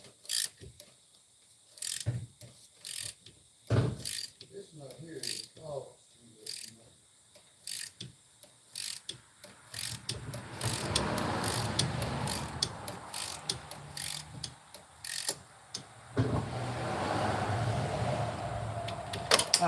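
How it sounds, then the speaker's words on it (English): A ratchet wrench tightens a car brake fitting, giving scattered sharp clicks and short ratcheting strokes up close, followed by a longer stretch of louder, continuous mechanical noise. "I can put my wrench back on it, my ratchet, and then I can just tighten it down like that."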